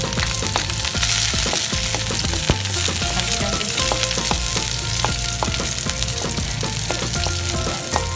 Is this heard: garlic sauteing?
yes